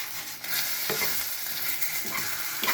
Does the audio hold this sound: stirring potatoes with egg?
yes